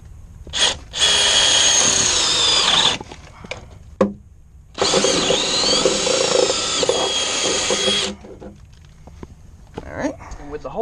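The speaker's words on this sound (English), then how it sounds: "So we're going to go ahead and drill our hole." A power drill whines loudly in two long bursts with a short pause between, grinding steadily through a wall, with brief clicks and handling noise around it.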